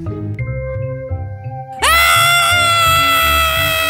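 A person lets out a sudden, loud, sustained high-pitched scream that cuts in after quieter sounds and holds steady to the end.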